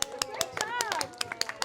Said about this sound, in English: Clap for Sophia's sister